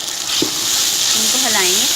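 Chopped tomatoes sizzle loudly in a hot pan while a spoon stirs them, a constant close frying hiss with a brief scrape of stirring near the start.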